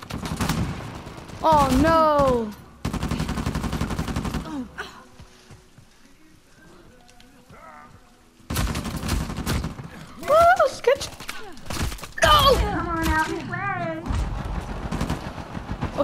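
Bursts of loud gunfire from the video game Uncharted 4, with heavy rapid shots in clusters and a quiet stretch in between, while a player talks and exclaims over the action.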